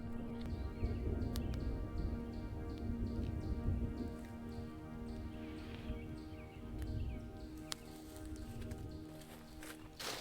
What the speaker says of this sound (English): I rushed to string up my tarp, barely finishing before the downpour began.